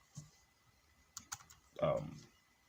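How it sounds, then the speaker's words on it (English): Computer keyboard keys tap in a few scattered clicks while someone writes CSS code for a website navigation bar, ending in a short burst of voice. "I'm going to type full stop again."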